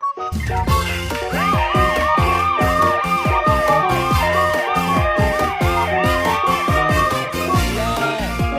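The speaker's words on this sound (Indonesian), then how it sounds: "mobil ambulan." An electronic toy ambulance siren plays a looping, warbling melody, loud and close, repeating without pause and with no voices.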